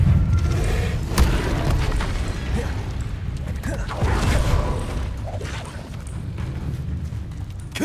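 Expelliarmus spell cast in Hogwarts Legacy, a booming whoosh amid an ongoing magical duel, with repeated impacts and thuds layered over a rumbling combat background.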